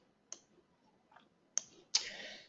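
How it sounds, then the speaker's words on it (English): Three sharp computer mouse clicks on a software checkbox, the first isolated and the last two closer together, crisp and near in an otherwise quiet room. "by clicking this checkbox here"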